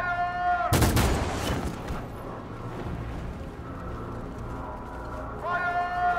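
Gunfire in the video game Detroit: Become Human, a loud burst of shots followed by rumbling echo and game noise, with a voice talking at the start and near the end.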